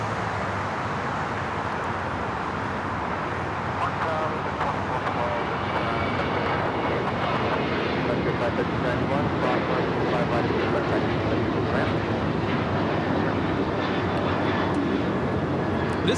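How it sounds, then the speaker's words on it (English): An American Airlines Boeing 737-800 takes off from Los Angeles airport for Phoenix, a steady, loud jet roar with broad rumble and faint whine holding throughout. "taking off to Phoenix on the 737-800"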